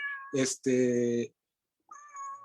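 A house cat, restless and frustrated at being kept indoors by rain, meows twice in quick succession, loud and close, followed after a pause by a softer, drawn-out mew.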